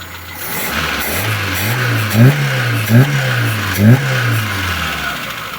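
A Moskvich 2141 with a 1.5-litre engine and a repaired Solex carburetor runs steadily, with the pitch rising and falling in a few gentle revs and three short blips of throttle, heard close with no talk.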